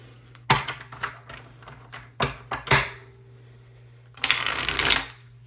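Tarot card shuffling in several quick riffling bursts, with a longer, louder riffle near the end; close and crisp, no talking.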